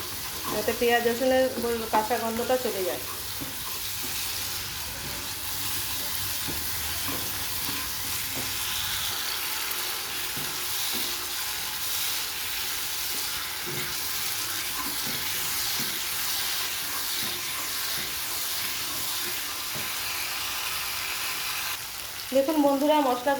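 Spices sizzle with potatoes in a pan for an egg and potato curry, a loud steady frying hiss heard close up that runs throughout, with brief louder clattering bursts at the start and end.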